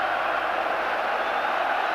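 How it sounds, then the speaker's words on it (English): Celtic fans in a football stadium crowd during a Rangers v Celtic match, a dense steady roar of applause and cheering throughout, loud and unbroken. "leads the field to tremendous applause from the Celtic fans"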